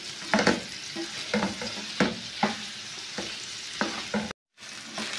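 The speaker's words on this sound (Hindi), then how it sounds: "पनीर तल लेंगे हम इसमें मक्खन के अंदर। हल्के से हम इसे फ्राई कर लेंगे।" Paneer frying in butter in a pan, with a soft sizzle broken by rhythmic scraping stirs of a spatula and a brief gap near the end.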